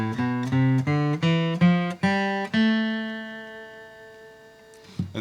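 A guitar plays a natural minor scale in the open position, a quick run of plucked notes stepping along before a final note rings and fades, with a faint touch of the next note at the very end.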